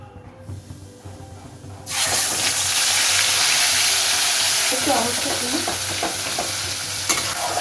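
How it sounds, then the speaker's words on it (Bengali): Onion and tomato paste is tipped into hot oil left from frying fish for a Bankura-style fish jhal. After a quiet start it bursts into a loud, sustained sizzle, with stirring scrapes through the frying. "মাছটা তুলে নিয়ে এই তেলে আমি দিয়ে দেব পেঁয়াজ আর টমেটোর পেস্টটা"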